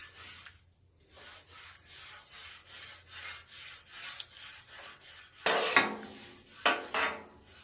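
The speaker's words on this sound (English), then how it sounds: "I use my rag. Now scrub, scrub," A rag scrubs a still-hot frying pan used for pork steak and fried potatoes and onions: a steady run of quick rubbing strokes up close, ending with two louder, harsher scrapes.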